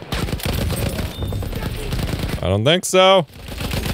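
Rapid gunfire crackles through Battlefield 1 game combat, dense and steady behind someone talking, with a brief loud burst near the end.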